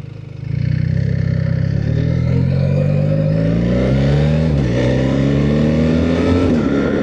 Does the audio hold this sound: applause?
no